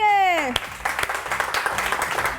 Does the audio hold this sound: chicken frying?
no